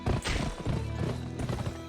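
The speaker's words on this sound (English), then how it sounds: "Press the sprint button to spur your horse." Horse hooves clatter at a gallop in the video game Gun, a dense, loud clip-clop rhythm set against busy in-game sound and music, with no voices over it.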